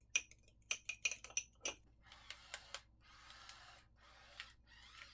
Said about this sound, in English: crack 2 eggs into each ramekin, and then we'll mix them up, put some seasonings in there